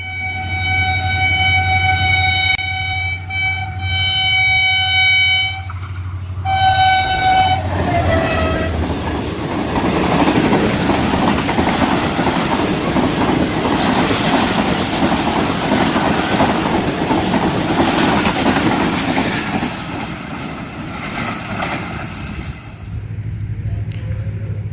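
An HGMU-30 diesel locomotive hauling the 17 Up Millat Express roars through Dabbawala station alone, with a long two-tone horn blast at the start, then a loud steady rumble and clatter of passing coaches that fades toward the end.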